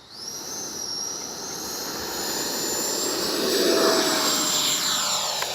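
An FMS 80mm F-86 Skyblazers RC jet flies past with a steady high-pitched turbine whine, loud and close, swelling slightly as it passes with a rushing roar.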